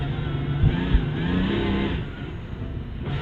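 MINI ALL4 Racing Dakar rally car accelerating on ice in Lapland, its engine droning steadily and close with a low, sustained roar and slight pitch swells, continuous throughout without talk.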